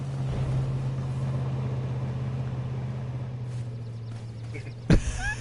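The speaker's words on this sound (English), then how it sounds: "Freezing when we hear a car." Engine of a car in the game H1Z1 battle royale, a steady low droning hum running throughout at moderate distance, with a brief sharp burst near the end.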